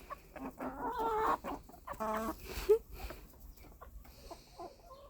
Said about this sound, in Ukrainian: Ви подивіться на цих курей.